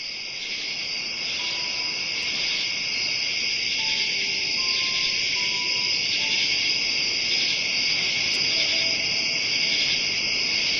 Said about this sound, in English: And we have crickets.